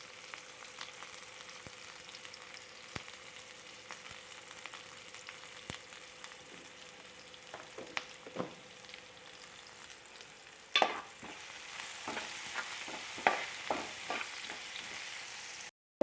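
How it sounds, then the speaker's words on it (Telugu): Onions with salt fry in oil for bitter gourd fry, a continuous low sizzle with scattered stirring scrapes that grow busier and louder in the second half, close by with no talk. "ఆనియన్స్ త్వరగా మగ్గాలంటే సాల్ట్ వేస్తే తొందరగా మగ్గుతాయి."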